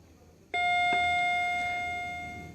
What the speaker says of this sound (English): press it and hold it for around 5 seconds until you hear a ding dong sound.